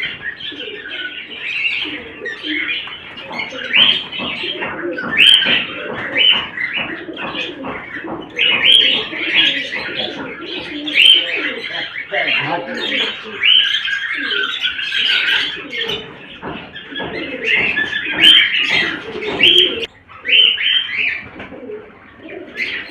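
Cockatiels call repeatedly from a breeding cage fitted with a clay-pot nest box, a busy, continuous mix of chirps, squawks and softer coos, close and fairly loud throughout with no talking.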